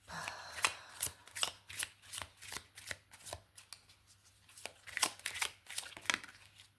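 Playing cards handled and drawn, a quick series of crisp riffling and sliding snaps at uneven intervals, close and quiet, with no speech.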